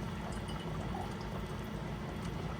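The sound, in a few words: rinse water with red wine vinegar poured into chili stew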